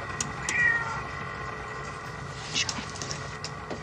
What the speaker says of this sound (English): The cat! It's still alive?